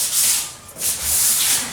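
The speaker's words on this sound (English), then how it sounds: "Alright, so I'm going to hit it with some 320 real quick." Sandpaper of 320 grit rubs back and forth across a cured cherry and green epoxy headboard, giving steady close scratchy strokes with a short pause midway.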